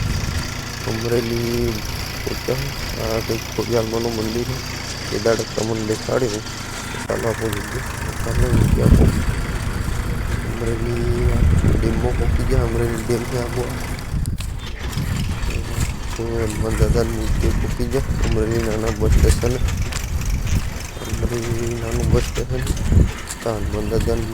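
A tractor engine runs on a trip carrying onions to market, chugging steadily with a rhythmic, mid-pitched idle throughout. Someone talks over the engine noise for much of the clip.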